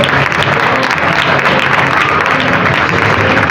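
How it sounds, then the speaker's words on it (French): An audience at a youth book fair reading contest in Libreville breaking into sustained applause, a thick, even wash of many hands clapping without pause, loud and close. "Les applaudissements, mesdames et messieurs."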